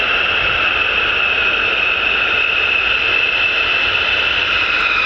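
Military jet taxiing at RAF Lakenheath, a loud steady engine whine and roar holding unchanged throughout, close and alone.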